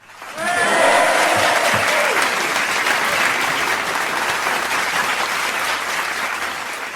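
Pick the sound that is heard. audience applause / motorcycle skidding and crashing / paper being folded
audience applause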